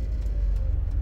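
A car pulling away at a city intersection, heard from inside as a low steady engine rumble and road hum, close and continuous.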